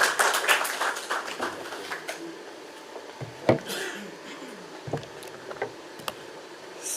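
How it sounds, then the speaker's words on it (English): Applause at a launch event, a burst of clapping at the start that thins out into scattered claps and taps, fairly close and not very loud. "Round of applause, please."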